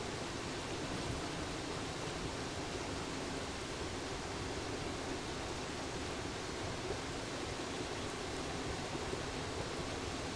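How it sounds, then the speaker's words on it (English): A waterfall in the video game Stray rushes in a steady, dense wash of falling water that holds an even level for about ten seconds, with no voices. "let's hop up here and have a look at our waterfall"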